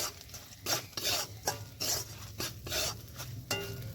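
Repeated scraping and stirring in a pan, a spoon rasping against metal in irregular strokes with a soft sizzle underneath, as fried ground spices cook in a chickpea dal.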